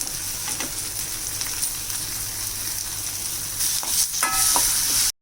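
Cucumber pieces frying in a pan with green chillies, tomato and tamarind for a cucumber roti pachadi, a steady close sizzle with some stirring and a few sharp clinks near the end.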